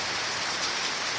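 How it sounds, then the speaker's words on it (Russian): Steady rain falling outdoors, a dense even hiss of drops with no other sounds over it. "там такой дождик"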